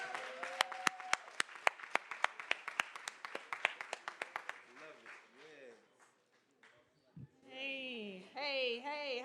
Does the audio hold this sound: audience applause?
yes